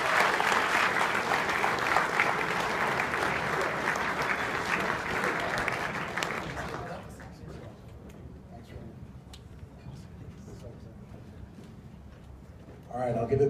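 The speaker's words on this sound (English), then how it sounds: "One more round of applause." A crowd at a hackathon gives a round of applause, full and loud for about seven seconds, then fades to scattered claps and quiet room sound, with a voice starting again at the very end.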